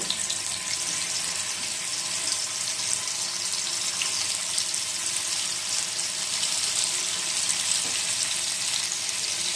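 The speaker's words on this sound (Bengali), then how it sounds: "আমরা পনিরগুলো হালকা হালকা বাদামি রং হওয়া অবধি যতক্ষণ ভেজে নেব" Paneer pieces frying in oil until light brown for restaurant-style matar paneer, giving a steady, dense sizzle that holds close and even throughout, with no talking.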